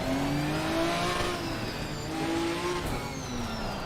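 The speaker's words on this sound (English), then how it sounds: "Oh my god, listen to that transmission." Ginetta GT4 race car in Assetto Corsa Competizione, engine and transmission whine rising in steady pitch sweeps, loud and continuous with a brief tire-scrub texture, no talking.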